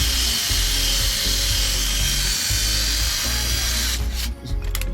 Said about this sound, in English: I can always drill around it to open the hole up wider, like I'm doing now